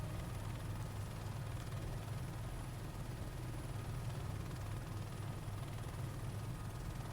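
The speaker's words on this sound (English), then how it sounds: "My helicopter flying certainly improved." A Cowansim Airbus H130 helicopter in Microsoft Flight Simulator, giving a steady low rotor and turbine drone that holds even and unchanging throughout, with no voices.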